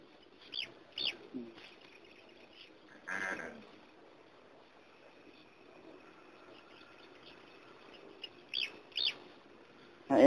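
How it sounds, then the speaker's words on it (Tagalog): Scattered bird calls and chirps by a rice field, a few short bursts spaced apart against a quiet outdoor background. "Ang dami kasi ibon."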